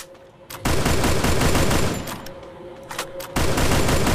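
Gunfire in the mobile shooter Free Fire Max, loud close bursts of rapid automatic shots in two long volleys separated by a brief lull with a few scattered shots, no talk.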